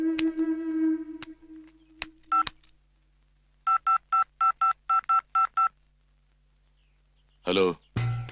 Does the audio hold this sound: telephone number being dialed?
yes